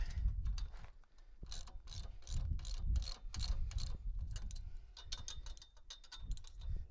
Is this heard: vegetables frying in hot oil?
no